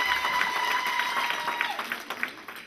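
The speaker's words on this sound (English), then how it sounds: "Please give yourself a big round of applause for that." Audience applause, a moderate spread of clapping hands in a room that fades slightly toward the end, with a faint steady tone beneath it.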